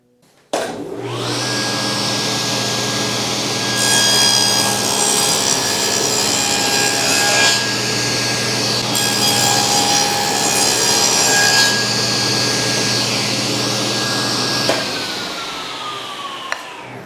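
A power saw runs loud and steady, cutting walnut from a miter joint seam to make room for a spline inlay, with a rising whine as the blade bites in and a slow wind-down at the end.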